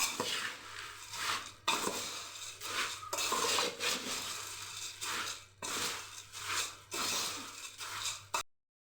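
Spiced puffed rice tossed with salt and chaat masala in a kadai for garlic-flavoured lasaniya mamra, heard as repeated close scraping and rustling strokes in uneven bursts with short pauses, no talking.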